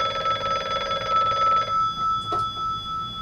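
A telephone bell rings loudly in a continuous trill for about a second and a half, then cuts off, leaving a faint rumble and a brief soft noise.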